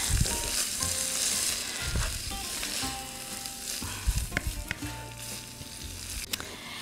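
Tomato sauce stirred into a moussaka mixture frying in a pan, with a steady close sizzle and clinks and scrapes of the spoon against the pan throughout, no talking.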